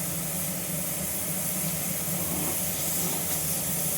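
A pressure cooker boiling potatoes on the stove lets off a continuous steady hiss of steam, close and even throughout with no pauses or voices.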